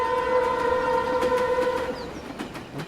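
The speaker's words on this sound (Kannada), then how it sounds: "Train is going." Train passing with a long, steady two-tone horn blast, fairly loud at first and then dropping away under clattering rail noise and a few sharp knocks.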